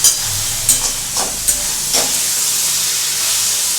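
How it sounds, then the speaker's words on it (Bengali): Capsicum paneer korma with sour curd being stirred in a pan: a steady bright sizzle with several soft spoon scrapes in the first two seconds, close and fairly loud, with no voices. "এটা দেখো আমি একটু নাড়ছি"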